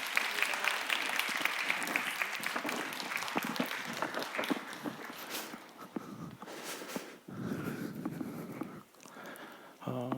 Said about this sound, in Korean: 큰 박수와 또 감사를 부탁드립니다.